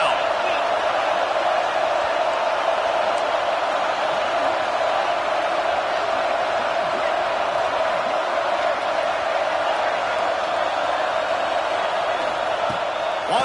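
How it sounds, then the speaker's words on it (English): Dense, steady roar of a big stadium crowd at a South Carolina versus Nebraska college football game, cheering on the defense on third down, loud and sustained throughout with no breaks. "Decibels rising as the crowd gets behind this defense on third down."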